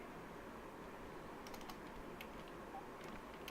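Faint, sparse key taps on a computer keyboard enter text in Adobe Photoshop. A few light clicks come in the second half over a steady background hiss.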